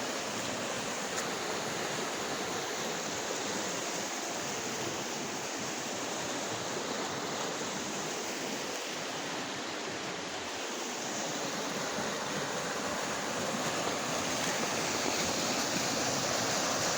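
River flowing, a steady, even rush of water that carries on unbroken and moderately loud for the whole stretch, with no voices over it.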